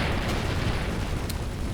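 Ship weapons in Avorion fire in a dense, continuous barrage of booming blasts with a couple of sharper cracks standing out, loud and close.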